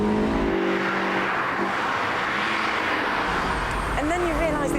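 A Honda VTEC-equipped car engine revs hard past 6,000 RPM, a loud, close, sustained roar rising in pitch, with someone talking over it through much of the stretch.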